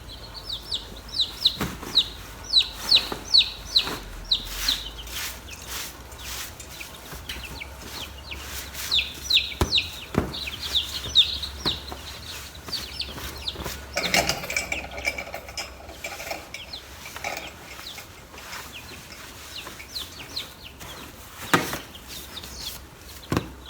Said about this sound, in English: This chick here that is laying down is dust bathing in the shavings